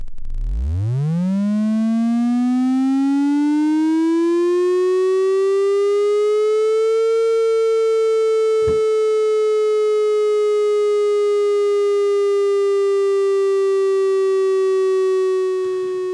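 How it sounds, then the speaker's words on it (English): A Ladik VCO4 modular synth oscillator, driven as a slow LFO by negative control voltage, sweeps upward from a low pitch into a steady, buzzy harmonic drone that drifts very slowly, loud and alone with brief clicks. "So Ladik VCO4 acting as an LFO with a negative voltage in there."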